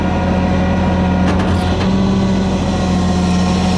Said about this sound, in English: I lower the gooseneck down to the ground, or the trailer down to the ground